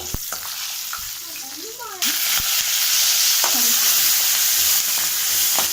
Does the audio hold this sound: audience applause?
no